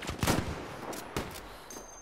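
Machine gun fire in Battlefield V crackles in short, sharp bursts, several separate volleys spaced apart at moderate loudness.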